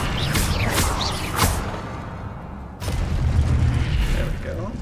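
Incendio fire spell cast in Hogwarts Legacy, giving bursts of whooshing, booming magical blasts with a loud rumbling low end, a sharp burst near the start and another surge partway through.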